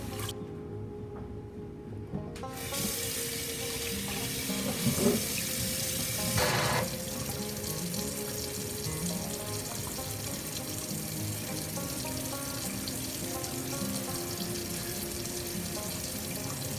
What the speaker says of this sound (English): I'm just rinsing these off, doing a cursory rinse.